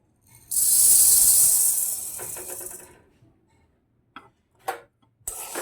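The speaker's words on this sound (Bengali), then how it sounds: "এবার আমি সাবুটা একটু হালকা করে ভেজে নেব" Sago pearls tipped into a lightly heated karai on a gas flame, dry-frying with a loud close hiss and rattle for a couple of seconds, fading into scattered soft clicks and ticks as the grains settle.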